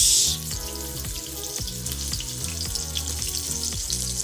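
Chicken pieces laid skin side down in hot oil give a loud, steady sizzle and crackle, heard close up and continuous with no voices.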